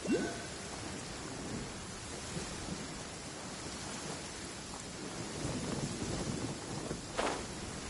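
Steady, fairly soft rainfall in a Genshin Impact storm, with a low rumble of thunder at the start and a sharper crack of thunder near the end.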